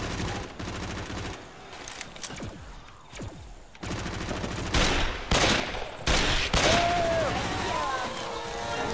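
Rapid bursts of video game gunfire crackle in clusters throughout, loud and dense, with brief gaps between volleys and game sound effects mixed in.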